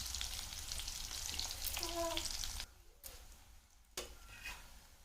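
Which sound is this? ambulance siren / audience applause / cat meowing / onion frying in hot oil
onion frying in hot oil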